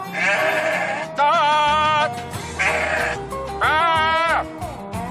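Sheep bleat repeatedly, several drawn-out wavering calls close by, over a constant low background rumble.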